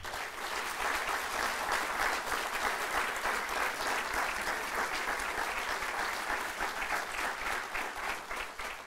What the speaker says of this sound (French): je vous demande tous et toutes de donner une bonne main d'applaudissement au CCNB et le travail qu'ils font